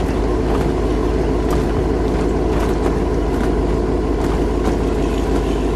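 A 1966 Pontiac GTO Monkeemobile engine runs with a steady, loud, deep rumble that holds continuously throughout, with no voices over it.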